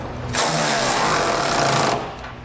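Power tool driving and tightening bolts on Curt custom 5th wheel rail brackets in the bed of a 2016 Ford F-series truck; a loud, steady buzzing burst lasting about a second and a half, starting and stopping abruptly, with no talk.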